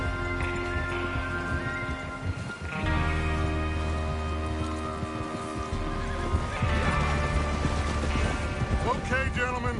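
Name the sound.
horses neighing and hooves clip-clopping, from video game Red Dead Redemption 2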